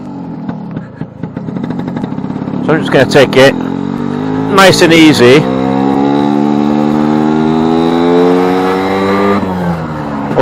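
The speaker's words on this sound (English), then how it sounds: "I have to get this engine warmed up a little bit" A new two-stroke motorcycle engine, running cold at about 43 degrees on a gravel-strewn track, revs up in rising bursts and then holds a steady high drone, with someone talking over the first part.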